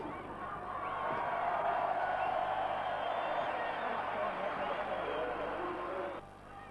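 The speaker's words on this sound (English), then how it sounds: "And wait for the crowd to react at the end of this." A large rugby crowd roars steadily after the New Zealand haka at a 1982 Queensland versus New Zealand match, a broad, sustained cheer heard from a distance that fades near the end.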